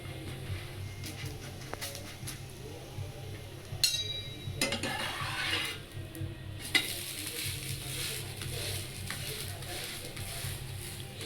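An oats chilla roasting on a pan gives a soft, continuous sizzle, with a few clinks and scrapes as it is turned over. Quiet and close, with some light talk at moments.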